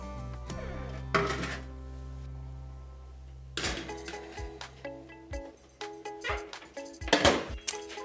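Ceramic and metal clatter: a small bowl of water knocks and clinks against an oven rack beside focaccia, with scraping and a few sharp clanks between quieter moments.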